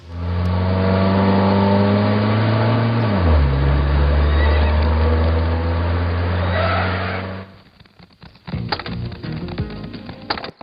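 Horses give a loud, sustained whinny in an action movie scene, the cry lasting several seconds and dropping in pitch, followed by rattling, clattering movement and engine-like noise.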